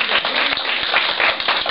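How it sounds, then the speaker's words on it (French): A group claps in a team-building session, a steady, dense patter of many hands close by for a short burst with no talk over it. "Bravo, on applaudit notre artiste."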